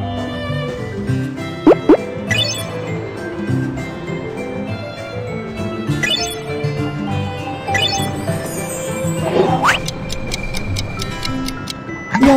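A yogurt machine timer in a BabyBus children's cooking game ticks steadily and evenly for several seconds over light background game music, with a few bright chimes and plops mixed in.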